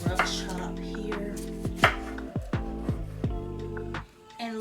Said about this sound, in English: I normally just cut that off and give this just a rough chop here.